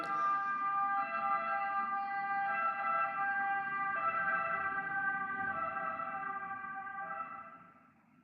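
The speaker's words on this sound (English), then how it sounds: "We're going to breathe through the sound of the siren here, just outside my window." A wailing siren with layered tones heard just outside a window, steady at moderate distance and muffled, fading out at the very end.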